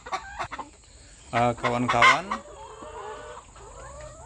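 Laying hens on an integrated family farm cluck and call close by, with a burst of loud, drawn-out squawking in the middle. A person speaks briefly at the start.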